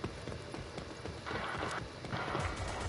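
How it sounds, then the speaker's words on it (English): Rapid footsteps in a video game patter steadily across the clip, fairly close, with a dense background of in-game noise and no talk over them. "I hear the footsteps, man."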